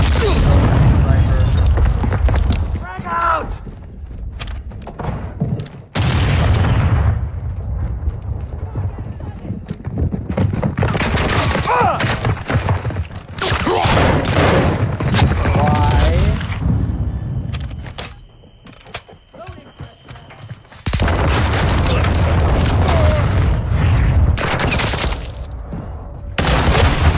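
Grenade blasts and gunfire roar through a video game battle in long, loud, dense stretches, broken by a brief quieter lull before the noise returns, with voices shouting over it.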